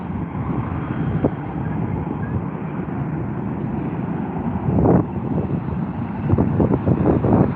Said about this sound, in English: Executing quite a lovely touchdown there on the runway